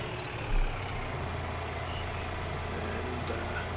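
Truck reversing in Farming Simulator 19, a steady low engine drone with faint repeating beeps, heard alone after a brief thump near the start.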